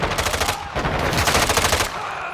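Rapid automatic gunfire in Call of Duty: Modern Warfare II rattles in fast, loud bursts close up, with a brief break partway through before continuing and then trailing off.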